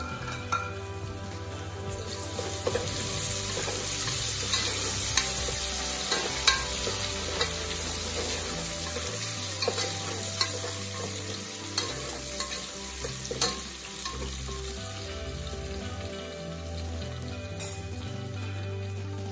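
Potato and carrot pieces fry and get stirred in a pressure cooker for dal khichdi, a steady close sizzle with scraping clicks of a utensil throughout and no talking.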